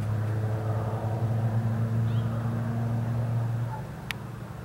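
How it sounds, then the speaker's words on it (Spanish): A car on a summer night by a green space in Plotier gives off a steady, low engine rumble that continues throughout and eases slightly toward the end, with no talking. "There is a car, allá va un auto."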